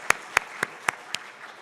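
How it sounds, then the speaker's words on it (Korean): During an early-morning church service, a congregation applauds its praise team: five sharp, evenly spaced claps stand out clearly over a soft, scattered patter of applause. "우리 희망교구 찬양팀에게 한번 사랑과 칭찬의 박수 부탁드립니다."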